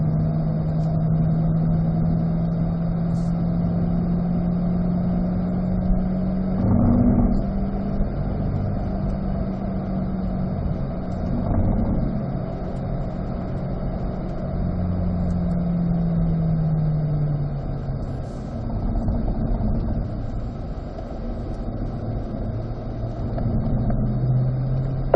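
A C8 Corvette at Spring Mountain Raceway, its engine droning steadily with a slowly rising and falling pitch as it drives the track, continuous and fairly close without breaks.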